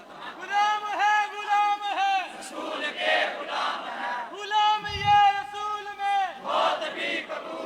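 A large crowd at a religious gathering chants slogans in unison, rhythmic call-and-response bursts of many voices, loud and repeated, with a short pause between chants.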